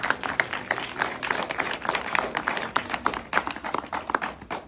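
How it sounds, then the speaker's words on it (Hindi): A small group claps in an uneven, lively patter of close hand claps that keeps going for several seconds without pause. "तालियां बजा दो।"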